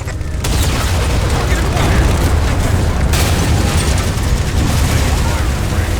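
Halo 4 railgun fire and explosions as Phantom dropships are shot down, a loud, sustained roar of booms and blasts with dense battle noise throughout.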